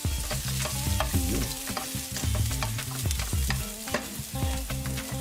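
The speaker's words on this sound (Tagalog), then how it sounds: "Gisa tayo ng red onion." Red onion sautéing in leftover oil in a pan, a steady sizzle broken by repeated scraping stirs that clatter against the pan, close and loud with no talking.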